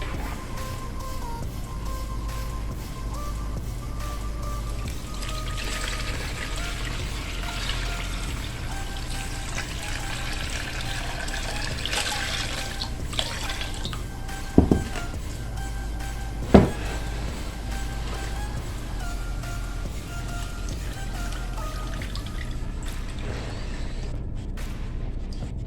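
Homemade apple cider vinegar pours in a steady, continuous trickle, with a couple of sharp knocks of the container partway through.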